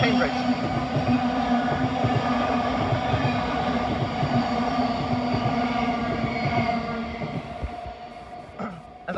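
A Class 700 electric train bound for Cambridge passes near Caledonian Road, a loud sustained rumble with rhythmic wheel clatter and steady motor hum that eases slightly toward the end.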